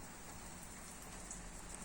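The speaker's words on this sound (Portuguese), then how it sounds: "Quando o ar está muito pesado, ela traz a chuva e limpa o ar" Steady rainfall patters down in an even, continuous hiss of drops on surfaces, close and unbroken with no thunder or voices.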